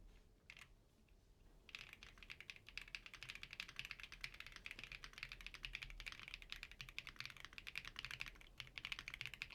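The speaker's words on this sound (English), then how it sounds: "So Drake, can you show us how it actually works as far as typing?" Rapid, quiet typing on a Hola87 gaming keyboard clatters steadily for several seconds after a brief pause, the keystrokes crisp and close.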